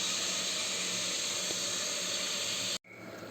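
Tomatoes and onion fry in a hot pan, giving a loud, steady sizzling hiss that holds evenly for nearly three seconds, then drops sharply to a quieter sizzle.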